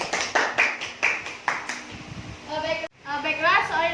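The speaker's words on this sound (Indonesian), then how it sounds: "kita beri tepuk tangan dulu terlebih dahulu" A small classroom group claps during a microteaching lesson, a few sharp bursts of hand claps near the start, followed by children's and adults' voices talking.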